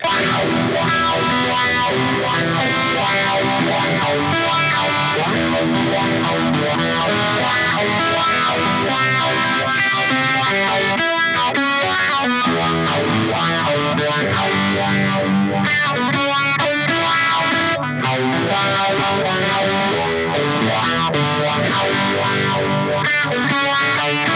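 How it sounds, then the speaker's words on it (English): Distorted electric guitar playing a dense riff with a swirling, sweeping phaser effect, loud and continuous throughout. "You can get the phaser going too."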